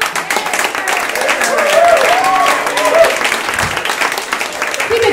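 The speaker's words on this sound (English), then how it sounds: "Keep it going. Clap your hands for my buddy Curtis." Comedy club crowd clapping between comedians' sets, a continuous roar of applause that swells in the middle and holds steady, with a voice speaking over it.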